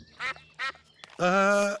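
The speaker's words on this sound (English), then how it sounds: "Why are we at the duck pond?" Ducks at a pond quack in a short series of close, nasal calls: two brief quacks, then a longer, drawn-out one, with no talk alongside.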